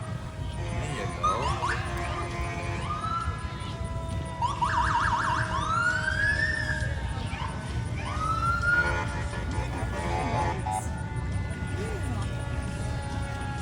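A fire truck siren wails in rising and falling sweeps at a busy beach on the Fourth of July, moderately loud over steady crowd and traffic rumble, with people talking throughout.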